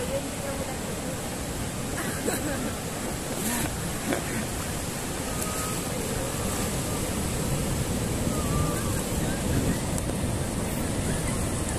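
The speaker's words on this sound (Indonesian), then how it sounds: "Awas ada ombak." Ocean waves washing in steadily at Karapyak beach in Pangandaran, a continuous broadband roar of surf with wind buffeting the microphone, loud and unbroken throughout with faint voices now and then.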